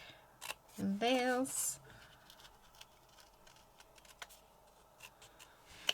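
Scissors snip through card for a handmade card kit, a few close, crisp cuts alongside a quiet voice and some light rustling of paper.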